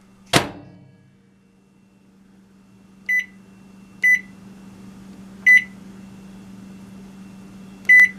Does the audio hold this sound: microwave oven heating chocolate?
yes